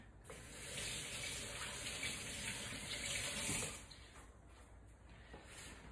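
Tap water runs into a kitchen sink while shrimp are washed, a steady close splashing stream that swells briefly mid-way, then continues more softly; no talking.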